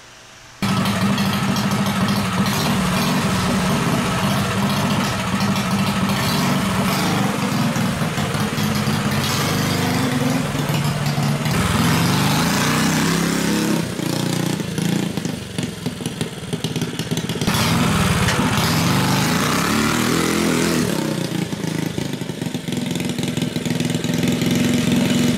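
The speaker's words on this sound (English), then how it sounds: "Alright, so we got one go-kart finished. Now, it doesn't really run the best." A go-kart engine that sat outdoors uncovered for over a year runs roughly. It is a loud, steady mid-pitched chug with uneven surges and sputters, heard close and on its own for the whole stretch.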